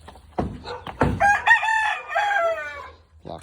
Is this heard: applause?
no